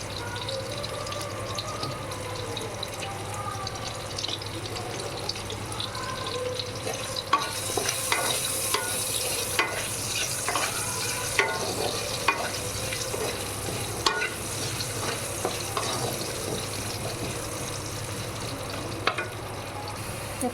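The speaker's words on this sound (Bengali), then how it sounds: "দেখো আলুগুলো ভাজা হয়ে গেছে।" Potato pieces seasoned with salt and turmeric sizzle and fry in a pan while being stirred, a steady close-up crackle with scraping and clinking strokes that grow busier in the second half.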